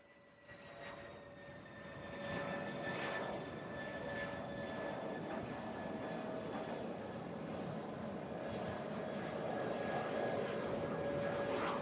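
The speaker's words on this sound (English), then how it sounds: "F-16 coming back down to land." An F-16 fighter jet descends to land at the Bahrain International Air Show, its engine a broad, steady roar with a high whine that swells after the first couple of seconds and holds at a distance.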